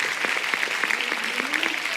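Audience applause at a televised singing competition, a brief burst of dense clapping from a crowd, fairly close and steady.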